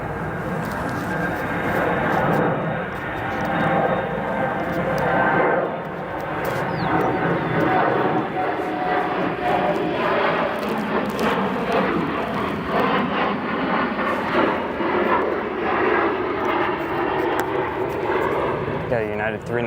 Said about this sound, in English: Next we got an E175 departing 28 right.